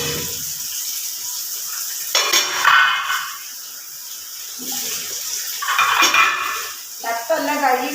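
Water running into a metal idli steamer pot in a home kitchen, with splashing and clanking of the pot in bursts between quieter stretches, close by and fairly loud.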